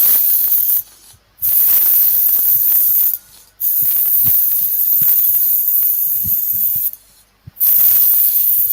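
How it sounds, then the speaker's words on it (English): An airbrush sprays paint while model locomotives are weathered, giving loud, close hissing bursts broken by three short pauses, with faint clicks and handling sounds underneath. "It's a nice little airbrush, that."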